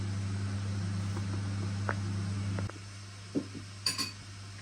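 A few light, sharp clinks of dishes and utensils in a home kitchen while syrniki are being made, coming after a steady low hum cuts out, with no talking.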